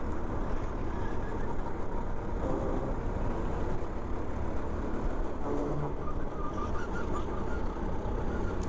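Racing go-kart engine during a league race, a continuous dense buzzing drone that stays loud and steady throughout, with no breaks or speech.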